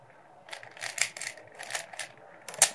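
Plastic clicks and clacks of a 3x3 Rubik's cube being turned and scrambled, a loose run of quick close taps with a sharper snap near the end, heard alone with no talking.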